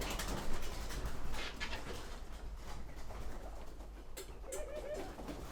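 Pigeons coo softly inside a nature house where guinea pigs are kept beneath them, with low repeated coos over a busy, rustling room background, fairly close and moderately loud.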